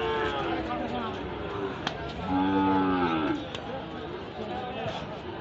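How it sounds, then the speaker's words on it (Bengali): Sahiwal cattle at a crowded livestock market low with one drawn-out moo rising above a constant babble of people talking and general market noise. "অনেকগুলো সাইওয়াল সার গরু।"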